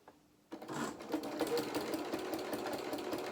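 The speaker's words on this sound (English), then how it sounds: "I'm going to do a straight line all the way down here with my sewing machine" A sewing machine starts up and keeps stitching with a steady, rapid mechanical whir. It is faint and close, with no voices.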